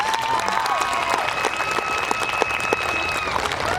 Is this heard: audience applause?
yes